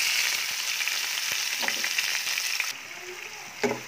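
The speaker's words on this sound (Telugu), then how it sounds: "చూసారు కదా, మొత్తం అంతా కూడా ఆనియన్స్ బాగా ఫ్రై అయినాయి." Chopped onions fry in hot oil with cumin seeds and curry leaves, giving a steady close sizzle with occasional stirring scrapes and a short pause near the end.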